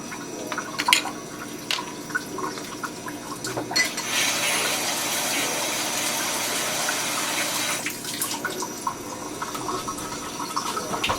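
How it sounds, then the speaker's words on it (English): Perrier sparkling water is poured into a craft cocktail, giving a steady liquid stream with fizzing and dripping. It comes close and alone, swelling to a fuller pour midway before easing back to drips. "and then we top with our Perrier"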